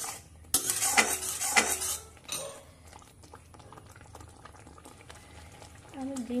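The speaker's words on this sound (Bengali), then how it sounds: "এবার মশলাটা কষিয়ে নেওয়া অবধি অপেক্ষা করব।" Masala sautés in a pan with Kashmiri red chilli powder and green chillies, bursts of sizzling and metal spoon scraping near the start, then quieter bubbling and occasional clinks, with a voice briefly at the end.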